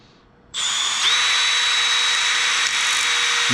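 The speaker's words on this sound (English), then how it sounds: "So we'll drill one hole here." A power drill bores a hole in a wooden deck chair, spinning up sharply after a quiet half second and then holding a loud, steady whine up close.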